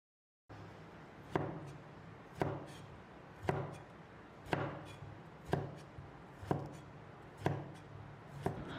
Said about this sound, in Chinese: 将葱放到案板上，将葱头给切下来，将葱切大概4cm 左右